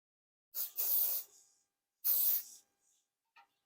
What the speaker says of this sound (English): just going to add a little bit of workable spray